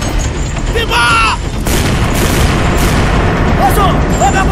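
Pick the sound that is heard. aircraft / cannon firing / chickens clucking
cannon firing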